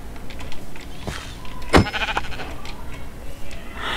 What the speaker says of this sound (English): Sheep, get back here, sheep.